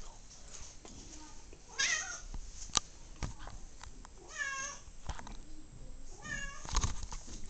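A pet cat at home meows a few separate times over several seconds, close by, with quiet room noise between the calls.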